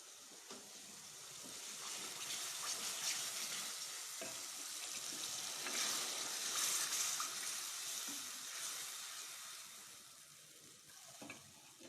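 Lukewarm water poured into a pan of cooking kofta masala, a steady watery rush with light sizzling and stirring, continuous and fairly close, no talking.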